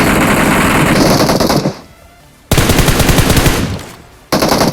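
Loud, rapid automatic gunfire in a video game, close up in two long sustained bursts with a brief lull between them, then a third burst starting at the end.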